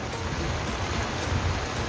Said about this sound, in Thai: ฝนก็ตกน้ำก็เชี่ยวนะคะ